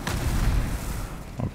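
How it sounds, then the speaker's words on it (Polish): Exploding barrels in Demon's Souls give a loud, close, rumbling blast with a long, heavy boom that fades and then swells again briefly. "Mamy ministra. I wybuchające beczki oczywiście, nie?"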